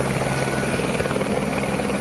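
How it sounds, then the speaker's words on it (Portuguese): A helicopter arrives carrying water to fight a fire in the Pantanal near Corumbá, its rotor beating in a steady, loud, continuous drone with no pauses. "Em seguida, o helicóptero chega trazendo água."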